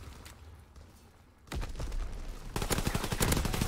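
Machine pistol gunfire in a WW2 video game: a short burst, then a denser, louder rapid automatic volley at close range. No voices.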